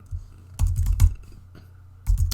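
Typing on a computer keyboard: close, clattering bursts of keystrokes in three clusters separated by short pauses, with no voice.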